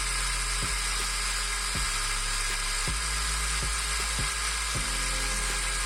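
A DCA ASM02 angle grinder running with no load gives a steady, high-pitched electric whine at around 9,800 RPM, close and continuous, with faint periodic ticks under the drone.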